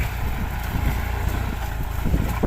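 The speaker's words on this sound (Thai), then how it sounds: "เป็น M9540 รถไถขนาดใหญ่นะครับ" A large M9540 tractor working a sugarcane field gives off a steady, loud, low engine rumble with rough broadband noise that carries on without a break, and no voices can be heard.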